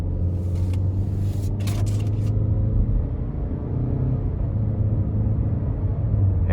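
A 2021 Nissan Rogue SV with the 2.5 engine pulling under light throttle on a test drive, a steady low cabin rumble and drone with brief road and wind noise, moderately loud and unbroken, no talking.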